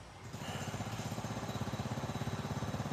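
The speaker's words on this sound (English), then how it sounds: "that drill, they're digging back behind me" Continuous rapid mechanical pounding of a digging drill working in a park, a steady pulsing engine-like rattle that fills the background for the whole stretch with no talk over it.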